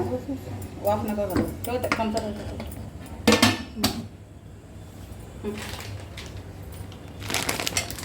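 Metal lid clanks down onto a pot on a gas stove after the flame is shut off, while a sweet modak filling cooks; a few sharp clatters sound near and fairly loud, with someone talking through part of it.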